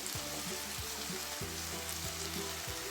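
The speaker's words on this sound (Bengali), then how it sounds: "এই সময় ডুমো করে কেটে রাখা পেঁয়াজ আমি দিয়ে দেবো" Diced onion hits hot oil in a pan while rosun posto is being cooked, giving a steady, close sizzle with light crackling that runs throughout, with no talking.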